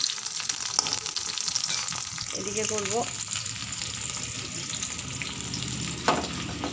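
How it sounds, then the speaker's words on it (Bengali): Onion frying in oil with black cumin in a wok, a close, steady sizzle with stirring scrapes and a brief squeak, while someone speaks a few words over it. "কড়াইয়ে তেল বসিয়ে কালো জিরে ফোড়ন দিয়ে পেঁয়াজটা ভাজতে দিয়েছি"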